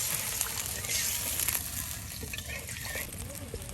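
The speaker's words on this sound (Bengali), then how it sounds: "এই যে এখন পানি।" Water pours into a cooking pan for a Sherpur-style dried fish dish, a faint running splash and slosh under background noise.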